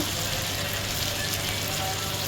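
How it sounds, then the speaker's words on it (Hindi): Mixed vegetables frying in oil for a vegetable biryani, giving a loud, steady close-up sizzle with no talk. "5 मिनट हो चुके हुए हैं, फ्राई हो गए हैं। ऑयल आप देख सकते हैं ऊपर आ गया।"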